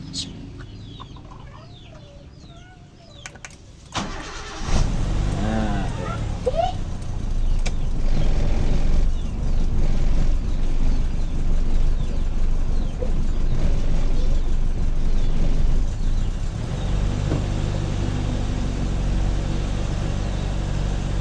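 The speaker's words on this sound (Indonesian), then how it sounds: "kita coba dulu motor starternya ini, mudah-mudahan lancar." On a Suzuki Katana motorcycle, the starter motor cranks and the engine catches, settling into a steady, loud running rumble close by after a quieter stretch with brief talking.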